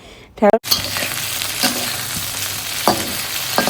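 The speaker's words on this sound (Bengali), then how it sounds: "এই আলুটাও ভেজে নিতে হবে ঢেঁড়সের মতো করে" Okra and potato pieces fry in a pan with a steady hiss and crackle, broken by a brief loud clatter near the start and a few soft stirring knocks later on.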